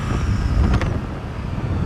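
A Triumph Speed Triple 1200 RS motorcycle engine growls as the throttle reopens during an overtake, a loud, close rumble with a brief rising surge in the middle, mixed with wind and road noise.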